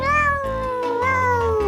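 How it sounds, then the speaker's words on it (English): A cat meowing up close, a loud drawn-out pair of wavering meows with no other sound. "Cats say meow meow."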